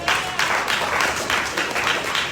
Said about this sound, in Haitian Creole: On va faire un gros applaudissement pour vous.